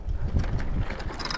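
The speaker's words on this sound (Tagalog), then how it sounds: "Malakas ang hangin." Strong wind buffets the microphone with low, blustery rumbling that rises and falls throughout; no voices are heard.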